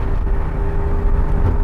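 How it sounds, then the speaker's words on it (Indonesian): A 1990 BMW E30 325iS wagon's inline-six engine runs at a steady, loud, close hum with no voices. "itu adalah suara dari mesin BMW yang proper dan legendaris"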